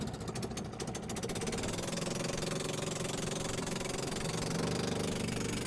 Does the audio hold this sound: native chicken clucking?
no